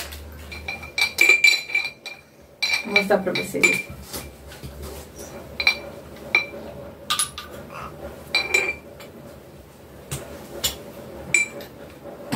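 Christmas tree ornaments being lifted out of their box, clinking and tapping against each other in repeated light glassy chinks, close by, with someone speaking briefly.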